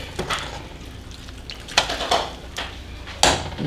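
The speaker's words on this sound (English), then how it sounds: "And then we're going to stir that around." Rinsed black beans are stirred into a pot of turkey soup, with a spoon scraping and knocking against the pot in several distinct strokes and a light sizzle beneath.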